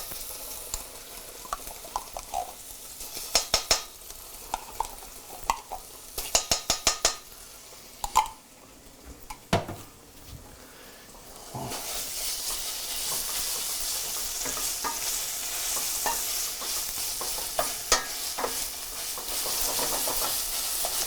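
Tomato paste cooks in a pan with a steady sizzle and hiss, broken by repeated scraping and stirring strokes of a utensil against the pan, close and clear with no talking.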